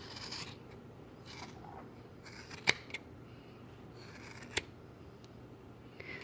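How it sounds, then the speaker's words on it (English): Scissors snipping through the wrapped loops of a yarn pom pom: soft, close rasping cuts with a few sharp clicks of the blades, irregularly spaced, in a quiet room. "take your scissors. You're just going to wrap them through one of the sides and kind of cut all those loops free"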